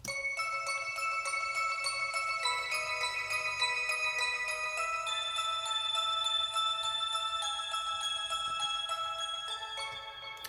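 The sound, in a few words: bells in a music track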